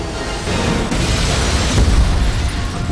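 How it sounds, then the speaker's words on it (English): Explosions from The Matrix Resurrections (2021) trailer: a loud, continuous roar of blasts with a heavier boom swelling near the end. "And explosions everywhere."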